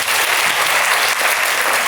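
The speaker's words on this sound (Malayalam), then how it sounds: "ഒരു നല്ല കൈയടി കൊടുക്കും നോക്കാം." A school audience claps in a dense, sustained burst of applause after a motivational talk, loud and close, filling the hall evenly for a couple of seconds.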